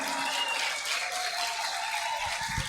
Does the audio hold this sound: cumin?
no